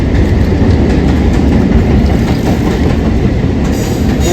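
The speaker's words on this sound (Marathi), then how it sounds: "उरण रेल्वे" A train passing close by on the Uran railway line, a loud continuous rumbling roar of wagons with rhythmic wheel clatter over the rails, no voices.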